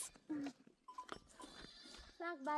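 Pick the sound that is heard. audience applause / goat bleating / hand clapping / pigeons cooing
goat bleating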